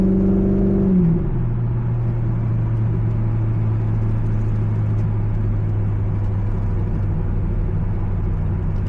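A C5 Corvette on a test drive accelerates, its engine note dropping after a gear change into a steady, loud droning rumble heard from inside the car with no talking.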